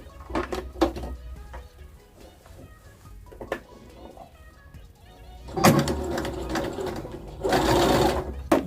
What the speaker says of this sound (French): on va aller coudre en suivant la valeur de couture